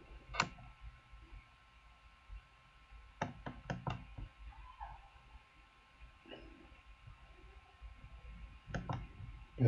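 Sharp computer mouse clicks, a few isolated ones and then a quick cluster of several, tapping close by in a quiet room during spreadsheet work.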